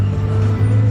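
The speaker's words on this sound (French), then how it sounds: "Oh j'avais pas vu la 720S violette passer derrière." A McLaren 720S sports car engine rumbles low and steady nearby as it drives past, a brief passing drone without any voices.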